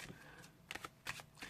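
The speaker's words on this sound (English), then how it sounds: "And what I'll do is I'll give the pack of cards a shuffle," A pack of playing cards shuffled for a card trick, short soft riffling bursts and flicks close by, quiet and brief with no voices.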